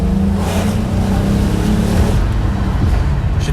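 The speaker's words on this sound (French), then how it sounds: "J'ai dû doubler des vélos, je m'excuse pour cette violence mécanique." A Peugeot 406 Coupé 3.0 V6 accelerating hard to overtake bicycles, a loud, continuous low engine roar with rising tone, heard close from inside the car over road noise.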